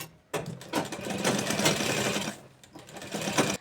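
A sewing machine stitching a ladies' palazzo pant, a fast steady mechanical whir with a brief pause, close and fairly quiet, no speech.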